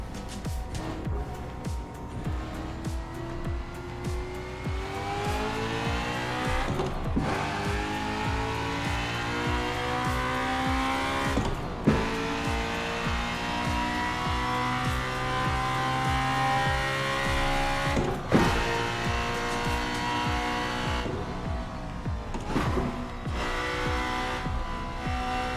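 A racing simulator car running flat out near 160 mph, engine droning steadily with harmonic whine while tires slide and scrub through understeer, loud and continuous with a few sharp transient bumps.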